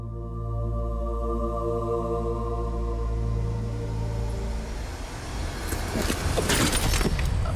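A car engine hums steadily, then winds down as the vehicle comes to a stop, followed by louder rattling and clattering noises near the end, with no talking.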